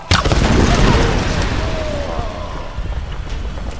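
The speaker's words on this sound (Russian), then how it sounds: "Здесь взрыв, как бы, этим огнем убило всех." A loud, booming explosion in the video game Tomb Raider erupts at the start, then rolls and rumbles on as a sustained, slowly fading roar of fire and debris.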